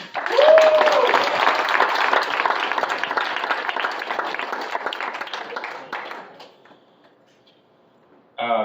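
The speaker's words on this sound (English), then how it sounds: "round of applause for Dimitri" Applause breaks out for a speaker at a tech meetup, dense clapping that swells quickly, holds for several seconds and fades out by around six seconds, followed by near silence and a brief voice at the end.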